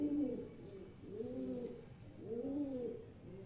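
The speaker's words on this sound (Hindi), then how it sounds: "ये वकार भाई उड़ा हुआ कबूतर है" A homebred flying pigeon coos in three soft, rolling phrases, close and steady with no talk over it.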